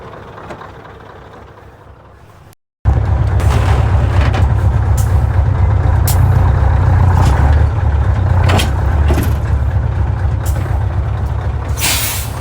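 A Scania semi truck backing under an American trailer, its diesel engine rumbling loud and close, with sharp hissing bursts of air brake release breaking through the steady drone.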